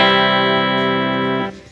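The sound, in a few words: guitar strumming big open chords through Fender Twin Reverb amp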